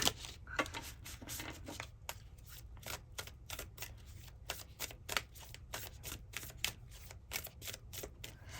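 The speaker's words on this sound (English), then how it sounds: "I'm gonna shuffle these a little bit more" Tarot cards are shuffled in quick, crisp riffling bursts, repeating steadily at close range against a quiet room with no talk.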